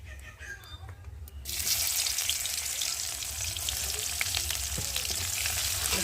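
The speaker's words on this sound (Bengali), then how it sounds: "এবার আমি দিয়ে দেবো কুচনো পেঁয়াজ," Chopped onion hits hot oil already frying whole cumin seeds, and a loud, steady sizzle bursts up and holds close for several seconds, with faint stirring underneath.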